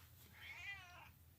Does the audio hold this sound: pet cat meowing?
yes